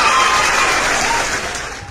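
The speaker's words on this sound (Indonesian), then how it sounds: "Tepuk tangan." Steady, dense applause from a crowd at an Indonesian religious talk, loud and continuous before tapering slightly at the end, with no voices on top.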